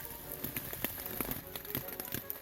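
Rain falls steadily at a campsite on the Appalachian Trail in the Hundred Mile Wilderness, a dense patter of drops striking nearby surfaces with scattered sharper taps throughout.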